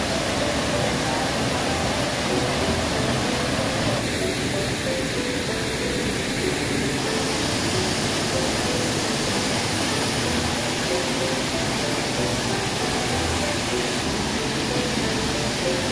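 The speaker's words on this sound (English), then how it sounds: "The waterfall." A waterfall in Hong Kong Park roars as a steady, loud rush of falling water that fills the scene without pause.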